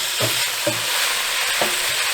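Italian sausage and ground beef browning with onions in a pan, a steady sizzle broken by a few stirring scrapes at regular intervals.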